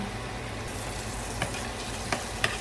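Garlic frying and browning in a hot pan, a steady close sizzle and crackle running throughout, punctuated by a few brief spatter pops.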